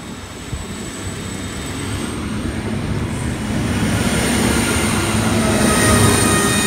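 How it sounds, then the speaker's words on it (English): A Hunter set diesel train departs platform 2 at Beresfield station, a loud, close, steadily building rumble of engine and wheels with a faint high whine overhead. "Hunter set 2 departing platform 2 for an all station service to Maitland and Tallara."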